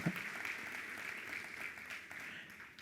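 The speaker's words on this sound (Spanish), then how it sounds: "Un aplauso para ellos, puede ser" A church congregation gives the children a steady round of applause, a dense wash of clapping from a crowd at a moderate distance that holds level and then begins to thin.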